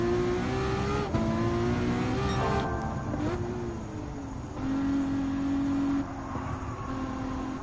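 Aston Martin Vulcan hypercar in Gran Turismo 7 roars at close range, its engine rising and falling through repeated revving shifts and sustained high-pitched wails as it accelerates along a straight.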